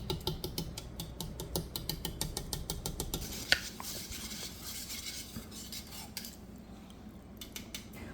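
A whisk beats rapidly against the side of a pot of strawberry jam as pectin is worked in, a quick regular metallic ticking with one sharp clank midway, then softer, sparser strokes.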